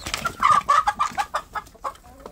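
Free-range village chicks (anak ayam kampung) cheep and cluck in a quick series of short, bright peeps, close and fairly loud, with no voices.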